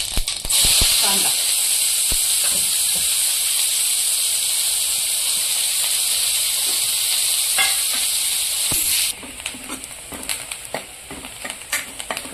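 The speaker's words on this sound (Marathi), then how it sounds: "कांदा आपला आता चांगला लालसर रंगावर तळून झालाय।" Onion fries in hot oil with caraway seeds in a heated wok, a loud, bright, continuous hissing sizzle that cuts off abruptly partway through, leaving quieter crackles and light stirring.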